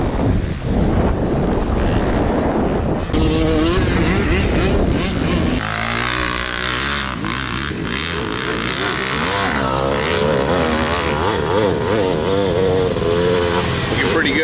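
Kids ride a new dirt bike around a muddy track, the engine droning and revving loudly near the microphone with heavy wind buffeting and voices mixed in.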